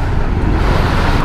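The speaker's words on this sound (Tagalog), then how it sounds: "Ang traffic naman dito." Road traffic heard while riding a Yamaha Sniper 150 motorcycle on a trip to La Union in the Philippines, a loud, continuous low rumble of engines and wind with no talk.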